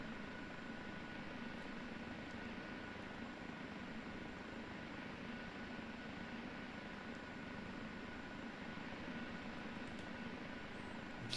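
Engine of an OH-58D Kiowa Warrior helicopter in the DCS flight simulator at full throttle, a steady unbroken turbine roar and hiss, faint and uniform throughout with no talking.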